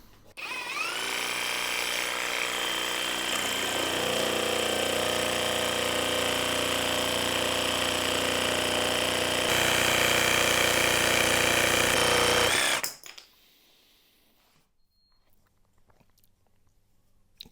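A Dong Cheng electric jigsaw cuts through olive wood with a loud, steady buzzing rasp that runs for about thirteen seconds, then stops abruptly, leaving near silence.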